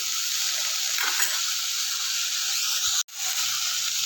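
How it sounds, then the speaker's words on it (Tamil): Tamarind and mint sizzle steadily as they are sautéed in a pan for a tangy mint relish, a close, continuous frying hiss with light stirring scrapes and a brief break near the end. "இதோட கூட தேவையான அளவுக்கு புளி கொஞ்சம் போட்டுட்டு கொஞ்சம் நல்லா வதக்கிக்கோங்க."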